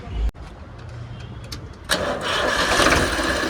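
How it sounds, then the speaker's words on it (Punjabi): A Farmtrac tractor engine starts: a short thump and some cranking, then the motor catches with a sudden burst and settles into a loud, rough, steady running rumble. "ਆ ਸਟਾਰਟਿੰਗ ਹੈ ਬਈ ਟਰੈਕਟਰ ਦੀ"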